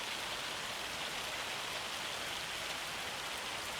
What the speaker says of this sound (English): Got some hailstones coming down.